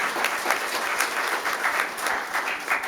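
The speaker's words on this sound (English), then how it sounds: "Round of applause for Deanna." Steady applause from an audience at a fire department awards ceremony, a dense wash of clapping that stays even throughout with no voices over it.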